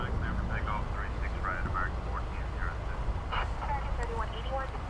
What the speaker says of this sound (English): we're about to see our first Airbus A319 of the night